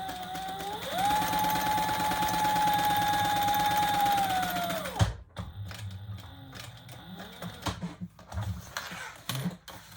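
Sewing machine running a continuous stitching burst through a leather sling bag, a steady whirring motor with rising pitch for several seconds, then stopping, followed by scattered clicks and handling taps.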